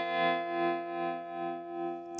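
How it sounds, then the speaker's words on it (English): A Chase Bliss Audio Gravitas analog tremolo pedal with its tone set very high pulses a bright, sustained chord in a slow, regular throb of about five swells over two seconds. "here's our basic tremolo and the tone is set really high"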